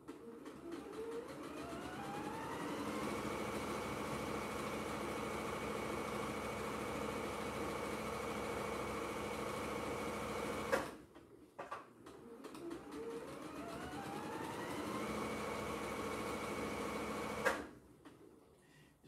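A sewing machine runs a long steady stitching pass down quilt strips for a bargello rainbow quilt, humming evenly for about ten seconds, pausing briefly, then running again in a second burst.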